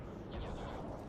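Heavy cannon fire from a World War I strategy battle in the video game The Great War 6.0: a dense, booming roar of artillery that fills the short stretch without pause.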